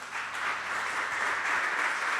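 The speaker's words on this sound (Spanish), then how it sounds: "Dele un fuerte aplauso al Señor." A church congregation applauds during a sermon, giving a soft, even wash of clapping that holds steady for a couple of seconds.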